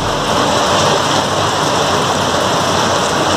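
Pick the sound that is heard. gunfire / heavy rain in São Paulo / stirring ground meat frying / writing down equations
heavy rain in São Paulo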